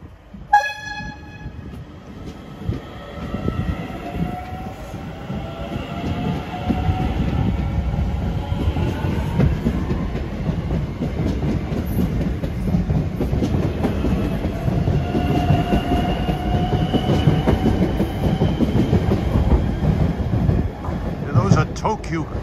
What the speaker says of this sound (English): Well, here comes the Heuston train.